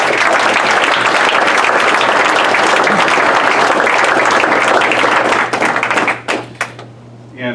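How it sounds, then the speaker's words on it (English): A banquet audience applauds a founder being honored, a dense, loud round of clapping that carries on for several seconds and then fades out in a few last scattered claps. "How about a round of applause for Jerry?"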